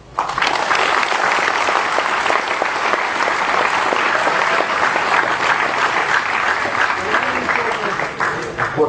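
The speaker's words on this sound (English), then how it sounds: "Round of applause." Audience applause at Dreamhack 2010 after a Bloodline Champions match, a dense, steady crowd clapping that sustains loudly throughout with a murmur of voices beneath it.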